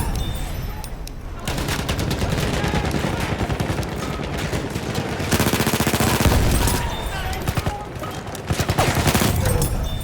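A Hellriegel 1915 submachine gun in Battlefield 1 fires on full auto at about 750 rounds per minute. Loud, rapid sustained bursts come close together with only brief gaps between them.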